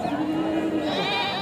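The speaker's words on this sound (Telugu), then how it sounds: "మేకలు అయితే ఉన్నాయి." Goats bleat at a weekly sheep and goat market in Kadiri, a single close, wavering cry lasting over a second against a busy background.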